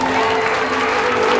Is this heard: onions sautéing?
no